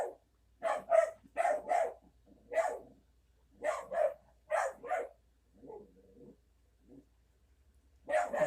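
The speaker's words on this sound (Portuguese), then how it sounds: "Perdoa o cachorro do vizinho, porque ele não consegue deixar de latir quando passa gente na rua" A neighbour's dog barks repeatedly in short bursts at moderate distance at people passing in the street, pausing briefly, then a few softer yips before more barking resumes.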